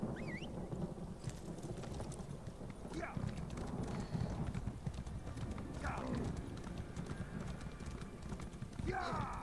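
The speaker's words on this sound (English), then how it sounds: "horse." A horse galloping in Elder Scrolls Online, with steady rapid hoofbeats running throughout and an occasional whinny, while a player talks over the sound.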